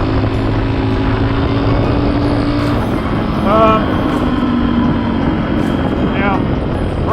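A Suzuki DRZ400S motorcycle accelerating in fifth gear on a street ride, its loud, steady engine drone filling the whole stretch with brief rising tonal sweeps, and a voice speaking over it.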